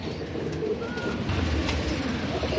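Madrasi pigeons of an old breeding line coo in a loft, low soft throaty coos repeating close by over a steady background murmur.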